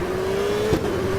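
A race car engine in the Automobilista CART video game, a 1998 Detroit street circuit race, holding a steady high drone with a brief blip partway through, continuous and moderately loud.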